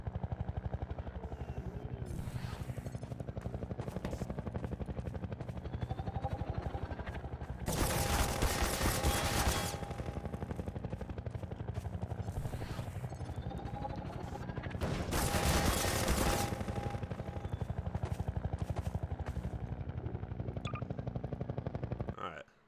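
Helicopter in a video game rotor-beating steadily throughout, with two louder bursts of gunfire-like noise breaking in mid-way.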